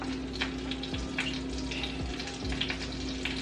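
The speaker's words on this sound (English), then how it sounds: "So we're getting a little sizzle." Meat sizzles and bubbles in a hot pan, a steady dense crackle with a few soft clinks, close and without talk.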